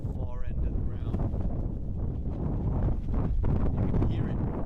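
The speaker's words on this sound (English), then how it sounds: "This wind has picked up progressively and really out of nowhere." Strong gusts batter the microphone at an outdoor sports ground, a loud continuous low rumble and buffeting with a voice faintly buried beneath.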